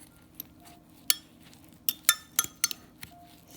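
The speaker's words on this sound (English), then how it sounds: "Stir, stir, stir." A spoon clinks against the side of a pot of dehydrated potatoes in boiling water, several quick, irregular taps with quiet gaps between strikes.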